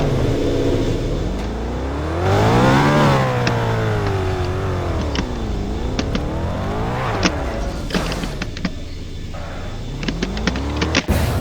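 A car engine in the video game Car Crushers 2 revs up and down repeatedly on a dirt track, its pitch rising and falling in long sweeps, with clicks and short bursts toward the end and no talking.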